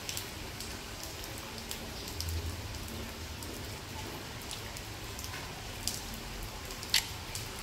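Heavy rain falling outside during a Ganesh puja season outing, a steady dense hiss of drops with occasional sharper patters, even and continuous with no voices.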